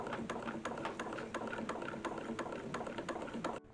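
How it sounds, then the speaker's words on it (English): An antique treadle-style sewing machine stitches a dress, its needle clattering in a fast, even rhythm of sharp mechanical clicks, close up and alone before stopping abruptly near the end. "we're stitching this whole thing on the antique sewing machine"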